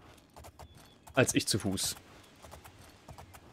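Rhythmic horse hoofbeats in the video game Oblivion clop at a quick, even pace in the background while someone speaks briefly in German over them.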